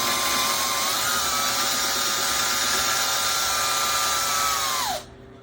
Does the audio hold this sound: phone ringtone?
no